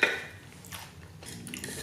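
A spoon clinks and scrapes against a dish during a Hamburg steak meal, one sharp clink followed by softer, scattered scraping and taps, close and fairly quiet.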